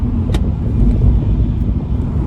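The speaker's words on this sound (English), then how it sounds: "The latest GP uses a 2-litre 4-cylinder turbocharged engine" A Mini GP with a 2-litre four-cylinder turbocharged engine drives on a race track, a loud, steady low engine rumble heard from inside the car, with no voices.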